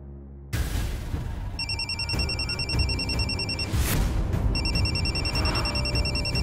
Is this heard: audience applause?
no